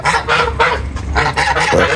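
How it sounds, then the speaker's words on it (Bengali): Loud, close geese honking in a rapid series of harsh, nasal calls that overlap one another. "রাজহাঁসগুলো খুব সুস্থ আছে ওরা খুব চিল্লা চিল্লি করে"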